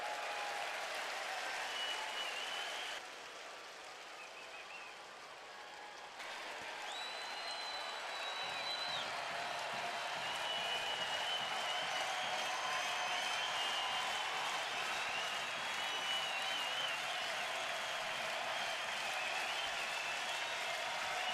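A Friday night baseball crowd roars and cheers in a big stadium as the Indians take the lead, a sustained, swelling wall of crowd noise with whistles, dipping briefly and then building louder.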